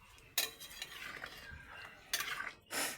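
A pot stirred just after water has been poured in, with close scraping and clinking of a spoon against the pot in short bursts and a soft wet sizzle between them, and no voices.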